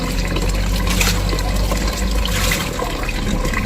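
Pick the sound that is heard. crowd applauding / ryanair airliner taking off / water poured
water poured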